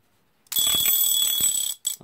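After a moment of quiet, the bell of a Smith alarm clock rings with a rapid metallic clatter for about a second, stops, then briefly starts again.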